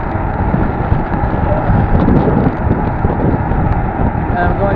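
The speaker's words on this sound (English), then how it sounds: "I have to lean into the wind a little bit here because it is getting very windy up." Strong, loud wind ahead of an incoming storm pummels the microphone in a constant heavy roar with gusty fluctuations, dense and close for the whole stretch.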